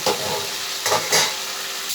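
Spices sizzle loudly in a pan while a utensil scrapes and stirs in short bursts, close by.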